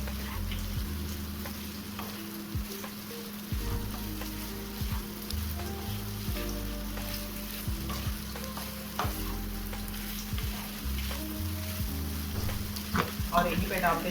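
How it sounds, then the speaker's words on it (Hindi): Boiled potatoes are stirred into masala in a pan for samosa filling, with a steady sizzle of frying under repeated scraping stir strokes throughout. "तो चलिए मसाले में अब आलू को मिक्स करते हैं"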